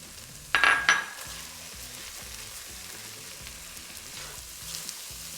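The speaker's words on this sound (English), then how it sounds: "I'm just gonna toss those right on into the pan." Spices tossed into a hot pan for paneer tikka masala land with a brief loud burst, then settle into a steady, soft sizzle and frying crackle that continues alone.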